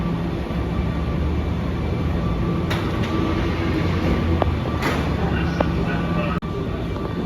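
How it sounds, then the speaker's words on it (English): A Washington Metro train rolling past at Alexandria, Virginia, a steady loud rumble of wheels and motors filling the whole stretch, with a few brief squeals and clicks over the continuous roar. "Here's the train. Hey, Fluttershy, look. Washington Metro."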